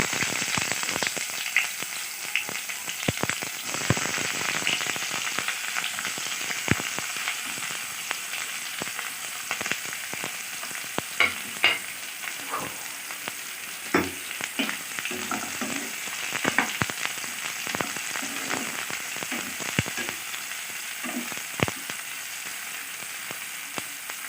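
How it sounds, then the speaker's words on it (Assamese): Chopped onions fry in hot oil in a home kitchen for an Assamese fish roe dish. The sizzle is a dense, continuous hiss with scattered crackles and pops throughout, and nobody speaks. "তেল গৰম হৈছে, এতিয়া দিব পিঁয়াজ।"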